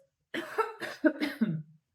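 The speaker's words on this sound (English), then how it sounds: "When you cough, you go like this," Several short coughs in a quick cluster, close and clear, separated by brief pauses, then silence.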